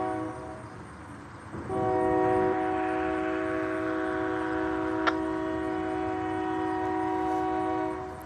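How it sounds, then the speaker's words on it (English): CPKC freight train passing with a loud, sustained multi-tone horn blast starting after a quiet rumble, steady for several seconds over rolling rail noise, with a sharp click partway through. "that train that you hear is a CPKC train"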